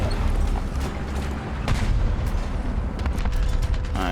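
Loud gunfire and heavy impacts hit an M6A1 heavy tank in War Thunder's tank battles, a dense rumbling barrage with several sharp cracks, close and continuous with no talk.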